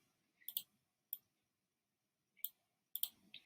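A computer mouse gives sharp, close clicks in small clusters, about five or six in all, separated by silence.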